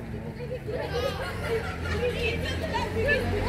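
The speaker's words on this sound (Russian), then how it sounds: "Молодежь шумная, все девочки." Noisy group of young girls chattering on a street in Lugano, Switzerland, a steady babble of overlapping voices filling the scene at close to moderate distance.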